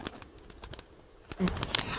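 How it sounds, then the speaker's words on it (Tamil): A pigeon's wings flap in a quick fluttering burst near the end, a sound effect in a children's story, heard close and fairly loud after quieter rustling. "புறா பறந்து அங்கேருந்து ஓட்டானா"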